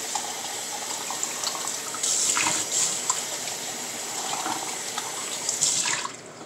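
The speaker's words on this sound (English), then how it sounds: "I like to rinse the can out." Tap water runs steadily into an emptied salmon can as it is rinsed, a close, continuous splashing rush that swells and gurgles briefly as the can fills before cutting off near the end.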